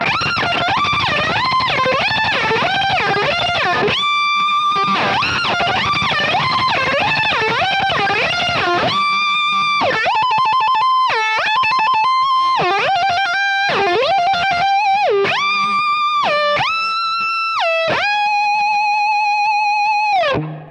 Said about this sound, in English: So with the whammy pedal, it sounds like this.